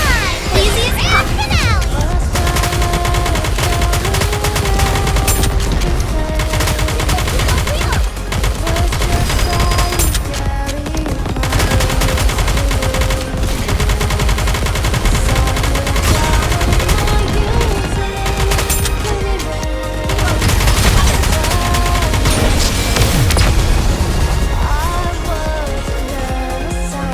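Sustained gunfire bombardment from the video game Goddess of Victory: Nikke, loud and continuous throughout with rapid bursts, crashes and a layered game soundtrack underneath.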